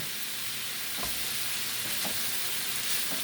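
Cabbage and kielbasa frying on a griddle give off a loud, dense, continuous sizzle up close, with faint scrapes of stirring underneath.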